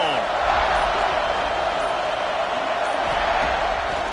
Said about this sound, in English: have the home crowd going absolutely bananas